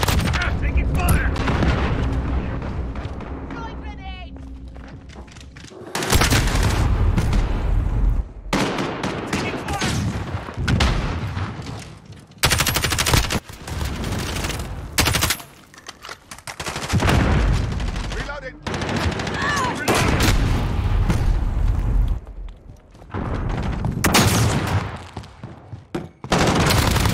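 Bursts of automatic and single-shot gunfire in a Call of Duty Modern Warfare team deathmatch, loud and repeated in dense volleys with short gaps and occasional booms, under intermittent radio-style voice callouts.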